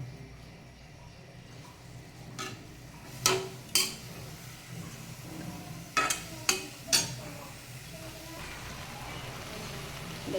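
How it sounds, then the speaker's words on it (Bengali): Snake gourd simmering in a sesame paste curry after salt goes in, stirred with a utensil that scrapes and taps the pot in several sharp clinks over a low, steady background hiss. "লবণটা দিয়ে নেড়ে চেড়ে কিছু সময় সিদ্ধ হতে দেবো।"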